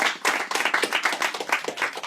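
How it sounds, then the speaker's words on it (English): An audience at a library event claps enthusiastically, with crisp overlapping hand claps of moderate size filling the room in an uneven, lively patter. "join me in a round of applause"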